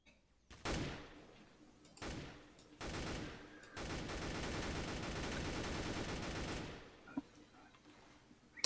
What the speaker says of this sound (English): I'm trying to practice my shooting.